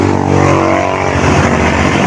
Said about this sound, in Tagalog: Lakas ang ugo ng sasakyan, di ko marinig.